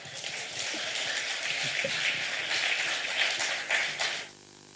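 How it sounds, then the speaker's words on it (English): Audience applause at an official gathering honouring the National Assembly: a dense, steady wash of many hands clapping at moderate distance that holds for about four seconds, then cuts off abruptly. "I think you can clap louder for National Assembly"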